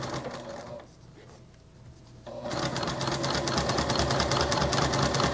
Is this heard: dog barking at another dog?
no